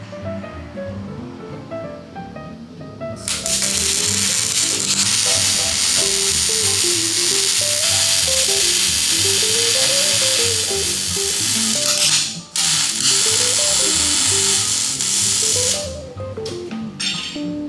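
Welding a Mustang II front suspension lower control arm onto a 1961 GMC truck: a loud, steady crackling hiss starts about three seconds in and runs for roughly fourteen seconds with one brief break, over background music.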